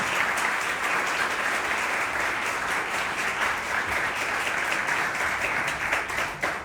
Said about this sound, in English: A big round of applause for our three friends